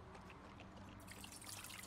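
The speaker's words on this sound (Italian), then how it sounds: "è st'animale che sta a bere in questo modo" A pet in the Pets Hotel PC game laps at water, giving a steady soft trickling, slurping wash that grows a little busier toward the end, with no talk.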